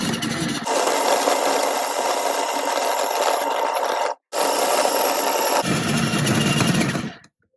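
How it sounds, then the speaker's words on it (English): An electric potato peeler churns potatoes with a loud, dense abrasive rasping and whir, running steadily for several seconds, briefly cutting out, then resuming before winding down to silence. "This electric potato peeler can peel up to 1 kg of potato and is very fast and effective."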